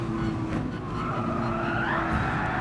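A race car in the GT Sport video game skids as its back end slides out, with loud, sustained tire squeal over a steady engine roar for nearly three seconds.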